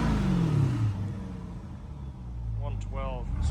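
A Chevrolet C8 Corvette fitted with a round-tip exhaust rumbles as its revs fall away, then settles into a deep idle that swells again, while someone talks briefly over it.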